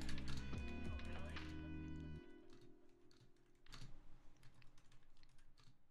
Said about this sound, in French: Je tape plutôt bien sans regarder en vrai